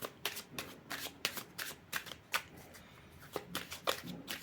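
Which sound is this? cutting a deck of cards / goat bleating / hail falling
cutting a deck of cards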